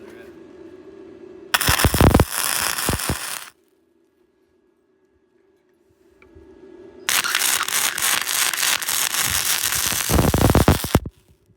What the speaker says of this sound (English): We're just gonna goober the welder right on here.